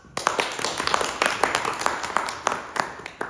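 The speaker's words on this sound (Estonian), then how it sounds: "Aplaus!" An audience at an event on European Parliament election awareness claps, a moderate scatter of individual hand claps forming light applause that runs steadily throughout, fairly close and without talk.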